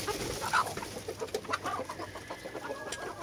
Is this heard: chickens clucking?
yes